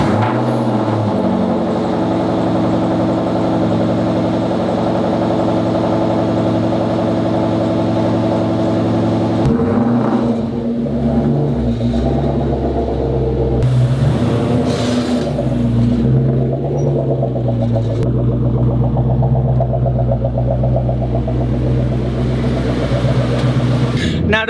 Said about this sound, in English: Cold start, neighbors,